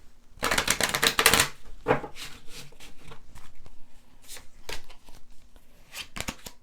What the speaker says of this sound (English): Let's shuffle one more time to get the next two cards.